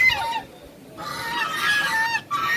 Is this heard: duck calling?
yes